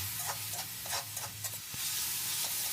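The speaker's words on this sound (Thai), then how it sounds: "นี่ครับผัดไปเลย" Hong Kong kale being stir-fried in a pan, with a steady soft sizzle and a few scraping stirs of the spatula, fairly quiet and with no voices.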